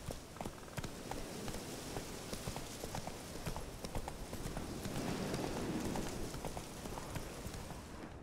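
Roach the horse in The Witcher 3 video game, galloping with steady rapid hoofbeats on the ground, continuous and fairly close throughout, with no talk over it.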